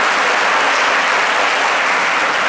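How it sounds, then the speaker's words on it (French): Audience applause on a French midday TV show set, a dense, steady wash of many hands clapping close and loud throughout, with no voices over it. "Applaudissez pour votre soeur."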